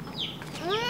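A hen pecking at a mango gives short, close clucks and a rising squawk, loud and alone within under a second.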